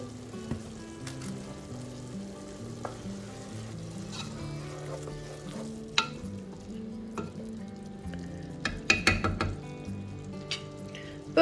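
Salted borlotti beans stirred in a cooking pot make soft, continuous bubbling and simmering sounds, punctuated by light scrapes and clinks of a spoon against the pot, all fairly quiet with no voices.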